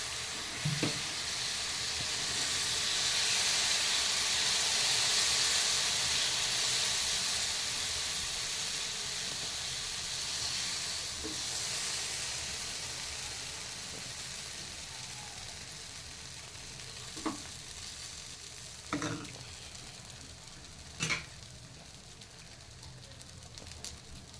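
Moong dal dosa batter sizzles on a pan over a gas flame, giving a steady close hiss with a few faint clinks and scrapes of utensils.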